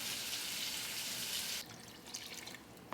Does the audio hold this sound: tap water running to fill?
yes